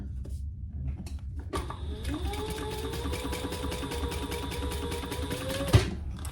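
A sewing machine runs a faux stitch line across a cork wallet, starting with a hum that rises into a steady, whirring drone for about four seconds, then stops with a small knock.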